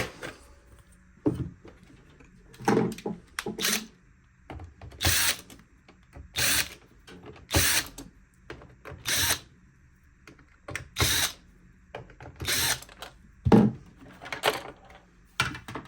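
Screws being driven out of a Roborock robot vacuum during disassembly for repair, about a dozen short whirring bursts from a small power screwdriver separated by quiet pauses, close and clear.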